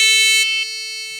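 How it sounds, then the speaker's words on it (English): A loud, steady electronic buzzer tone from a buzzer driven by a Raspberry Pi sounds alone, dropping slightly in volume partway through and holding on to the end. "I can also control my buzzer sound"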